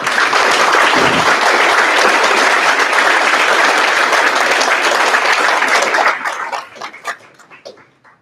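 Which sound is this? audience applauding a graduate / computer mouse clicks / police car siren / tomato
audience applauding a graduate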